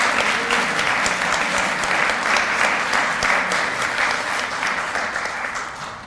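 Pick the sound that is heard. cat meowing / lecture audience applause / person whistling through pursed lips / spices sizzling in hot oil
lecture audience applause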